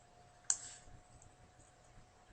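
A single computer mouse click on forex charting software, one crisp, faint tick in an otherwise quiet room.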